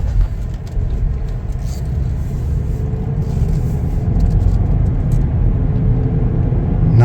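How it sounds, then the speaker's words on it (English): A 2024 Chevrolet Blazer 2LT rolls along on a road drive, a steady close cabin rumble of engine and tyres that swells slightly toward the end, with no talking. "Take it for a little test drive here."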